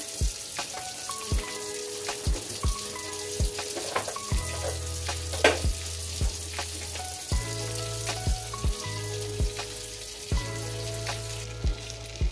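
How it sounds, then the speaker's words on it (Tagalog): Fried rice sizzling in a pan in a home kitchen, a continuous crackling fry broken by regular sharp clinks and scrapes of stirring, with no voices. "magluluto na rin ako ng aking fried rice guys"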